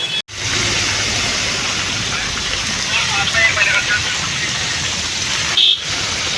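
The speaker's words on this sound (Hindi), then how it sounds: "आप लोग देखो हल्की बारिश आनी स्टार्ट होगी" Light rain beginning to fall outdoors makes a steady, close, broadband hiss with no clear gaps, carrying on evenly throughout.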